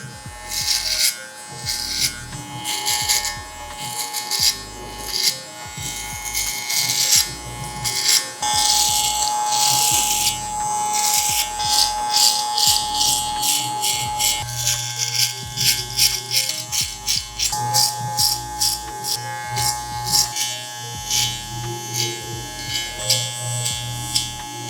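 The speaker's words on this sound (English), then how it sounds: "let's just go ahead and start trimming" An electric beard trimmer fitted with a 1 guard buzzes steadily and close while trimming a beard, its hum shifting in pitch as it presses into the hair, with a continuous drone throughout.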